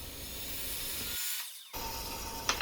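Purpleheart and curly maple are ripped into strips on a saw, giving a steady, loud, broadband cutting roar that drops out for a moment in the middle, then resumes.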